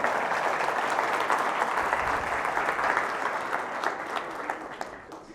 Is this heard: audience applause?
yes